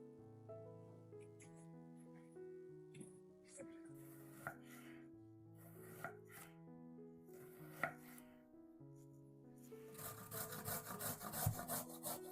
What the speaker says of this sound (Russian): Для зажарки нам нужно нарезать 1 луковицу и потереть на терке 1 морковь.